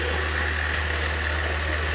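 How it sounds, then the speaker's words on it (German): A motor with a large flywheel, driving through a cardan shaft in a motor control car, runs smoothly with a steady, continuous low hum and no variation. "Und bei mir liegt der Motor, liegt da, da ist eine riesige Schwungmasse drin, weshalb der so tadellos läuft."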